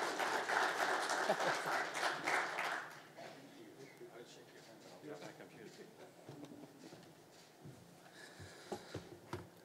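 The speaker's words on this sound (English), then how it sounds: "how about a big round of applause for Rob Cardinal" Audience applause greets Rob Cardinal at a Mi'kmaq community event, dense and steady for about three seconds, then thinning into scattered claps and murmurs.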